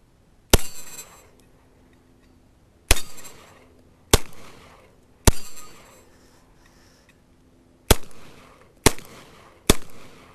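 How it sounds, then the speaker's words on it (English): CZ-SP01 Tactical pistol firing 115-grain 9mm reloads at metal targets outdoors, seven sharp loud shots spaced a second or two apart, each followed by a brief ringing ping from steel. "first up will be the CZ-SP01 Tactical. These are LAX ammo, 115 grade 9mm reloads."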